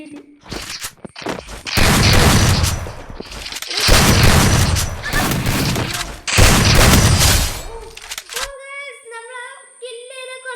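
Gunfire from Free Fire Max in lone wolf mode, loud dense bursts of shots and booms in three long volleys, then quieter game interface tones at the end.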